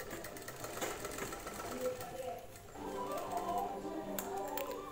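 A domestic sewing machine stitching darts on the chest of a blouse, running in short continuous bursts of whirring stitches with a brief pause near the middle, heard close and fairly quiet with a voice speaking alongside.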